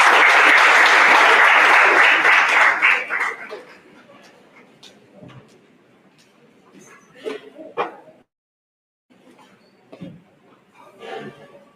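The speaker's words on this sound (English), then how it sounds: "Round of applause." An audience at an adolescent health event gives a loud round of applause that fades out after about three seconds, followed by sparse quiet movement, a brief silence and faint scattered sounds.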